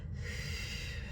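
A single audible breath pushed out through the nose during a Pilates exercise, brief, close and soft, a short snort-like exhale with no talking.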